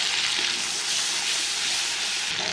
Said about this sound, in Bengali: এই তেলের মধ্যে আমি জিরে, তেজপাতা, গোটা গরম মশলা দিয়ে দেবো।